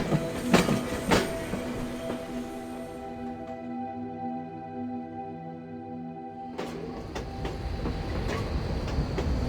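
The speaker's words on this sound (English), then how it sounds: "That's such a cool tram." A tram in Syberia: The World Before runs on rails with a steady, near, humming rumble and a few clacks, briefly dropping to a thinner tonal hum mid-ride before the full rolling noise returns.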